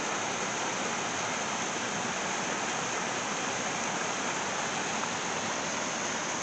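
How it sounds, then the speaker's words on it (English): Continuous broadband rush of a small waterfall at Campsie Glen, Scotland, steady and close, with no voices. "That's right on top of that little bit of waterfall that I just showed you."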